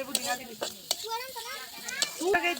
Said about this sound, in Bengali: তেল দেওয়া হচ্ছে এবং তেল দেওয়ার পর একটু নাড়িয়ে নিল।